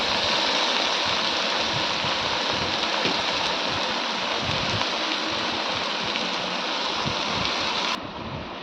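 Spinach greens sautéing in a pan with no added water, giving a steady close sizzle and hiss that runs without pause and drops slightly near the end.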